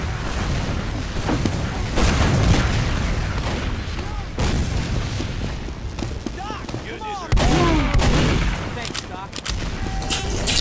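Rocket launcher blasts in a Team Fortress 2 scrim on the Snakewater map, a dense run of booming explosions and gunfire with swooping whooshes, loud and chaotic, while players talk over the action.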